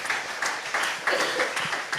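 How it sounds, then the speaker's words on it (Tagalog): A church congregation clapping loudly in bursts of rhythmic applause, the claps coming in quick waves that swell and fade, fairly near and filling the room. "Palakpakan natin ng malakas na palakpak."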